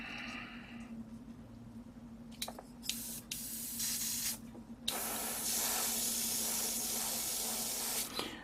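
AIRGOO AG-426 airbrush compressor pushing air through an airbrush: a steady hiss with a few brief spray bursts early on, then a long continuous loud spray over a low mechanical hum.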